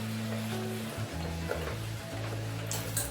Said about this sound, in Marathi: आता भाजून घेऊ चला, तेल पण गरम झाले तर तेलामध्ये सोडते